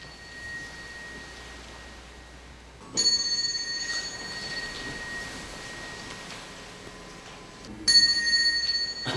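Clear temple bell strikes during 108 prostrations by young people gathered in a large hall before dawn: two bright ringing strikes several seconds apart, each decaying slowly over a quiet background.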